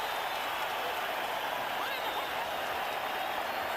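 A boxing arena crowd roars in a steady, dense wash of cheering during a fight, loud and continuous throughout with no distinct breaks.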